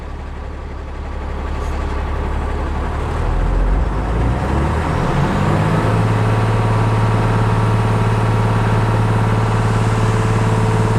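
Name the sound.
Tata BS4 truck running in first gear, wheel spinning on jack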